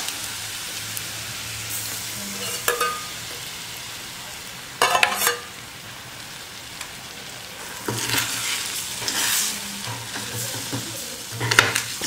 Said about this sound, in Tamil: ஸ்டவ் குறைச்சி வச்சுட்டு அப்படியே கலக்கிட்டே இருங்க.